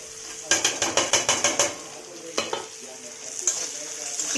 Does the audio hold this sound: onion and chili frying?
yes